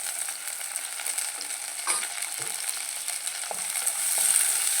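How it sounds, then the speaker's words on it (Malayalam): Sliced shallots and chopped green chili hit hot oil in a pan and fry with a steady, close sizzle, broken by a few light scrapes and clicks of stirring. "ഇതതിലേക്ക് ഉള്ളി ഇട്ട് കൊടുക്കാം ചെറിയ ഉള്ളിയാണ് ഒരു പച്ചമുളക് അരിഞ്ഞതും കൂടി ഇട്ട് കൊടുക്കാം"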